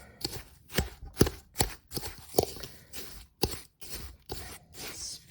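A spoon works through thick Christmas cake batter with vanilla extract in a bowl, giving a steady run of close, rhythmic scraping thuds about twice a second.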